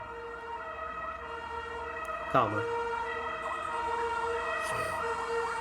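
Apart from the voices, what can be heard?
ambulance or fire engine siren passing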